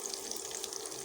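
Onion, green chili and garlic fry for tempering in a pot, giving a steady, even sizzle and crackle that stays close and continuous with no voices.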